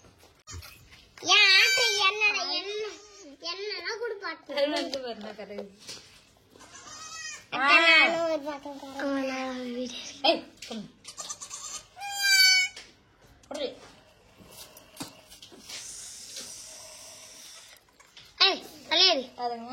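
A young goat kid bleats in repeated short wavering cries close by, mixed with a voice and other talking at a family home.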